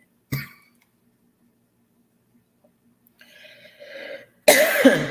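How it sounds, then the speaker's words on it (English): A sharp cough is followed by long silence, then a muffled throaty sound and a loud harsh coughing burst at the end, close to the listener. "I don't know what's going on in here with the whole cough thing."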